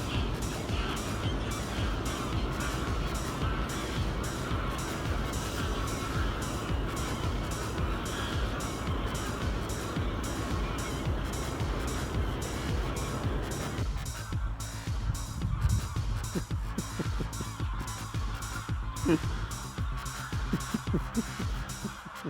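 Dense, continuous honking and squawking of a large flock of geese in flight in Sweden, steady and loud throughout with a thick background of wingbeats and noise.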